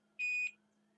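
A single electronic beep tone, steady and clear for about a third of a second, sounds over a low background hum as a phone feedback line prompts recording.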